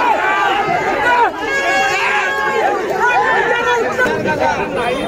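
Crowd jubilation at the Sama Yatra procession in 2024, a dense outdoor din of many excited voices shouting and cheering together, loud and close, with continuous overlapping calls throughout.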